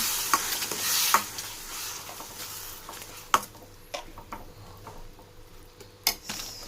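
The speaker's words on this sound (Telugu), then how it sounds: "మనం ముందుగా ప్రిపేర్ చేసుకున్న టమాటా పేస్ట్ ఇందులో వేసేసుకోవాలి. సో ఇలా మిక్స్ చేసేసుకోండి." Tomato paste being stirred into a tomato curry in a pan: soft, continuous sizzling and scraping, with sharp spoon taps against the pan at irregular intervals, close by and without speech.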